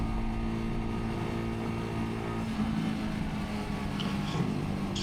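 A Lexmoto motorcycle engine runs steadily, then its pitch shifts and climbs as the revs change partway through, heard up close while riding on a bumpy road, with no talking.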